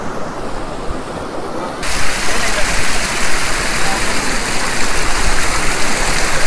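Stream water rushing steadily across a shallow water crossing at Shivkhola near Siliguri, a loud continuous broadband wash that swells stronger after the first two seconds and holds alone without talk.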